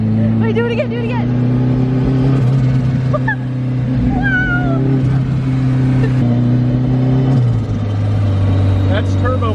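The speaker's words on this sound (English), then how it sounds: "That's turbo flutter. We don't have a blow off valve." A turbocharged K20 engine swapped into a Toyota MR2 Spyder with no blow-off valve hums loudly and steadily at close range. Chirpy, wavering turbo flutter rises over the drone, and people talk over it.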